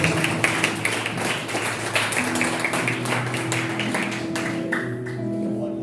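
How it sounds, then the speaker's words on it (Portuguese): A church congregation at an evangelical service claps steadily and loudly throughout, with rhythmic clapping running over sustained musical chords. "Você pode aplaudir o Senhor Jesus."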